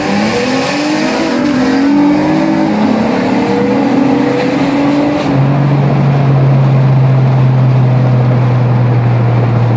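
A base-model Nissan Altima revs hard after a street race, its engine roaring loud and close with a rising, wavering pitch that then settles into a steady high drone.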